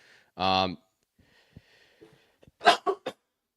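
A single close-up sneeze from a sports show host, a short sharp burst followed by breathy sniffs and a few quiet mouth noises.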